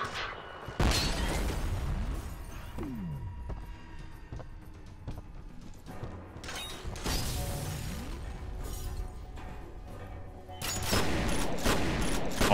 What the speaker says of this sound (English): Eat this grenade, please.